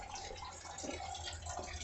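Coolant draining from a 1999 Ford Ranger XLT 4.0, a faint steady trickle and light dripping of liquid, quiet and continuous.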